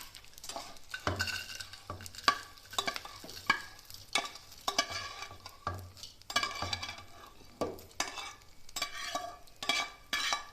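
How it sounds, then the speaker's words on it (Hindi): Edible gum (gond) roasting in a pan over a low flame, with a crackling sizzle and frequent sharp clinks and scrapes of a spoon stirring against the metal pan, close and fairly loud. "ऐसे हल्की आग में भूनना है इसको, फूल जाएंगे गूंदे।"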